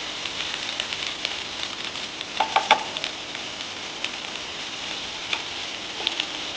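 Chicken frying in a little oil in a pan: a quiet, continuous sizzle with a few brief clinks and scrapes as the pieces are stirred.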